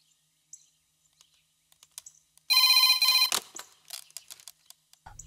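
A telephone rings in one loud, bright electronic burst lasting under a second during a call scene in a Telugu movie, followed by light clicks and taps in an otherwise quiet room.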